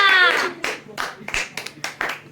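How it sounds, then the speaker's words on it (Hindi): A string of sharp claps, about eight separate hand claps spaced fairly evenly, following a brief vocal sound at the start. "वाह, तालियां"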